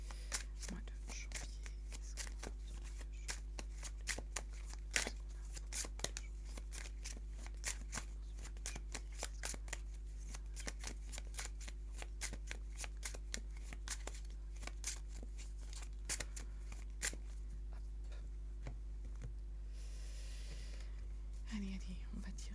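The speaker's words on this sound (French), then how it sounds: "Allez, on va tirer les cartes." Oracle cards being shuffled and drawn at close range, a long run of quick, crisp riffles and slaps with short pauses between bursts, under a low steady hum and occasional soft speech.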